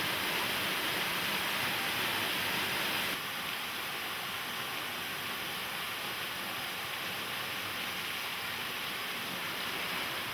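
Twin Falls waterfall on the Hana Highway in Maui, Hawaii, roaring as a steady, dense wash of falling water and spray, close and continuous throughout with a slight drop in level partway through, and no voices.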